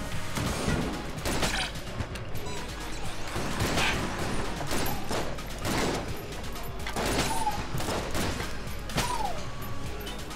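Synthetic rifle firing in the Enter the Gungeon video game: dense, continuous bursts of gunfire layered with clanking impacts and game effects, loud and steady throughout with no pauses.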